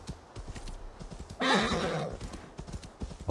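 A horse in Assassin's Creed Valhalla, ridden uphill along a path, gallops with quick rhythmic hoofbeats and lets out a loud, close whinny midway before the hooves continue.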